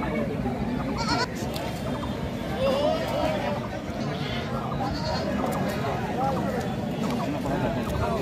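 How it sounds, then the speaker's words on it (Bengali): A young Ghorani goat at a livestock market in Dhelapir gives repeated bleats, partly buried under a steady crowd murmur and chatter from people nearby. "আমাদের সামনে যে ছাগলটি রয়েছে খুব সুন্দর একটি বাচ্চা ঘোরানি খামার উপযোগী ছাগল।"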